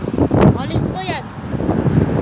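Wind buffets the microphone outdoors among olive trees in Cyprus, a steady rumbling roar with gusts, while someone talks over it.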